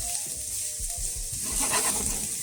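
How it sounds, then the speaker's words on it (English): Roast pork, vegetables and onions sautéing in a stir-fry pan make a loud, continuous sizzle and hiss up close, with faint stirring scrapes underneath. "Saute these down a couple minutes."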